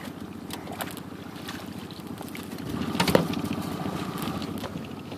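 A fishing boat's outboard motor runs steadily while backtrolling for walleye on the North Channel of Lake Huron, a low continuous drone with wind buffeting and a few knocks against the hull.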